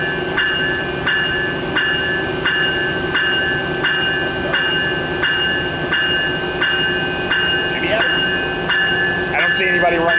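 Train 2115 pulls out of Fullerton station, its wheels beating a steady, repeating clickety-clack over the rails along with a constant rumble, close and loud throughout, with a voice briefly heard near the end.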